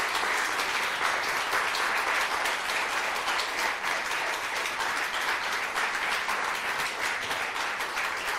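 Sustained, dense clapping from a Turkish daytime TV studio audience welcoming a guest, loud and steady from start to finish with no pauses.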